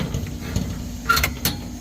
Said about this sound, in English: Let me open this gate.